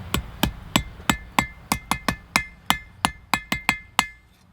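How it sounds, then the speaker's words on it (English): A hammer strikes forged metal flat for a Viking fire striker, about fourteen sharp ringing blows at a steady, slightly quickening pace, each with a brief metallic decay, close and loud without talk. "hammer it out nice and flat"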